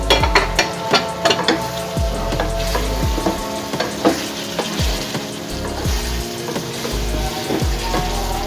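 Mutton pieces fry in a pan over cooked ginger and garlic for bhindi gosht, a loud close sizzle with repeated rhythmic scraping and knocks from stirring and no talk.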